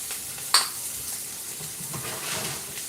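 A metal pan clanks once, sharp and close, while eggs are being cooked, followed by faint stirring and light kitchen rustling in a quiet room.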